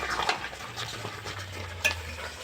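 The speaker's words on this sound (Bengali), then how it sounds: "এখন হালকা আঁচে নেড়ে নেড়ে রাখতে হবে নারকেলটাকে" Grated coconut is stirred in a pan over low heat, giving soft scraping strokes of a utensil against the pan over a faint sizzle, quiet and close.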